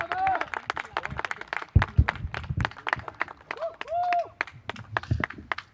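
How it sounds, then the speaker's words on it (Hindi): A crowd claps to welcome poet Azhar Iqbal at a kavi sammelan, scattered sharp hand claps coming in bursts with a voice speaking over them and cheers rising in between. "ज़ोरदार तालियों से स्वागत"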